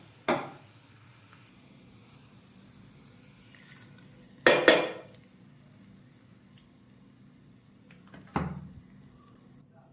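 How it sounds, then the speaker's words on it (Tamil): Hot oil tempering hits coconut chutney in three short sizzling splashes, spaced a few seconds apart, with quiet kitchen clatter between. "இப்போ வந்து நம்ம தாளிப்பு கண்டி இருக்கிறத சட்னியில் ஊற்றிடலாம்"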